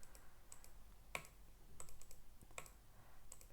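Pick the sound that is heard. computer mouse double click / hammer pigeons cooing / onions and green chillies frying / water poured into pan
computer mouse double click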